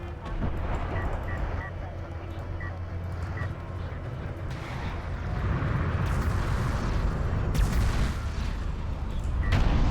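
Heavy rail guns and missiles firing in a Homeworld: Deserts of Kharak battle, a dense rumbling barrage of booms and blasts that swells louder toward the end, with commentators talking throughout.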